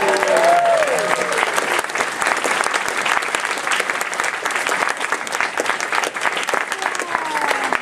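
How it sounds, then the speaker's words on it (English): A crowd at a fan convention closing ceremony claps in sustained, dense applause, loud and continuous, with a few voices briefly audible near the start. "Big round of applause for Mr."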